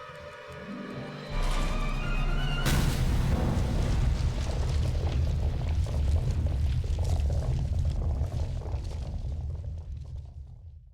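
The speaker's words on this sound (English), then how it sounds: "that explosion sound sounded like there was a percolator of coffee behind it" A game explosion erupts from The Raven Remastered, a sudden loud blast after a brief lead-in, followed by a long churning, bubbling rumble that lingers for several seconds and slowly fades.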